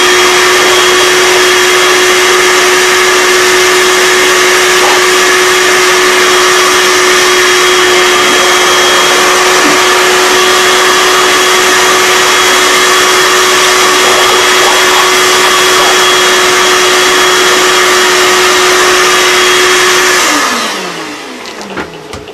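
Vacuum cleaner sucking up dust after a CNC cut, a loud steady whine with a constant pitch that runs for about twenty seconds and then spins down and stops.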